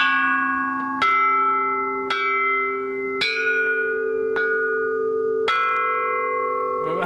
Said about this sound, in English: presided over by Tan Jun, chime bells are the main instrument